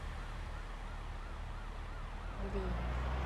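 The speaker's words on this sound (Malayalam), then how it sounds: "ഗൈസ് പോലീസ് വണ്ടിയുടെ സൗണ്ട്." Wailing police car siren in a KSRTC bus simulator video game, a loud, continuous rising-and-falling tone over a constant engine drone, with no talk during it.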